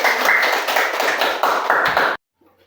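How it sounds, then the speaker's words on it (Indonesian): A group of learners at a coding and artificial intelligence training session claps hands in a loud, close burst of rhythmic applause lasting about two seconds, then stops abruptly into near silence. "Tepuk tangan dulu untuk kita."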